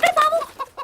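A hen, kept sheltered in winter, gives a quick run of close, loud clucks in under a second.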